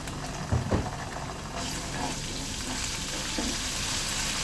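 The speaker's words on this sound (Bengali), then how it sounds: "এখন এই যে আদা রসুন বাটা দিয়ে দিব" Ginger garlic paste hitting a hot pan while cooking taro stolons with shrimp, giving a steady close frying sizzle with a couple of brief louder spits near the start and no talking.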